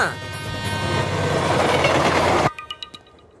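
A train rumbles along with a loud, steady roar that builds for about two and a half seconds, then cuts off abruptly. Faint clicks and clacks follow in the quieter remainder.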